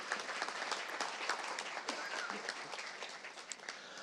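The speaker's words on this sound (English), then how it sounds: "please give a round of applause for those artwork contest winners" A room full of people gives sustained applause for artwork contest winners at a regular public meeting, with dense, steady clapping that carries evenly throughout, near and fairly full, with no one talking over it.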